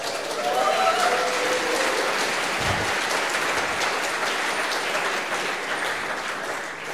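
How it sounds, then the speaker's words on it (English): A conference audience at State of the Map 2018 in Milan cheers and applauds, with dense, steady clapping and a few shouts at the start, continuing at full volume for several seconds. "Give a cheer."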